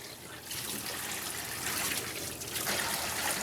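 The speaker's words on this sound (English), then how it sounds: "Gonna wash the turkey off." A whole turkey rinsed under running kitchen water: a steady broadband hiss and splash that grows after a brief quieter start and continues evenly, with no talking.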